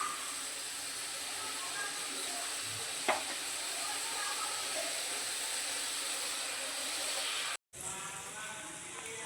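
Water poured into a mustard paste rohu fish curry in a pan gives a steady, faint sizzle and hiss that runs throughout, broken by one brief gap near the end.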